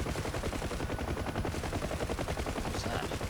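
Sustained rapid gunfire from the door gun of a UH-1H helicopter in the DCS World flight simulator, firing at a transformer station: a dense, continuous stream of shots, loud and close, with no speech over it.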